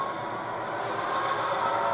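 A freight train locomotive uncoupled from its string of cars rumbles steadily up close on the main line. The diesel roar grows slightly louder over two seconds, with no talk over it.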